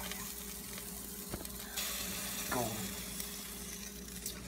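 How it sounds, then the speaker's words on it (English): Food in an air fryer sizzles as a faint, steady hiss, with one soft click partway through. Nothing else is heard. "Sizzling."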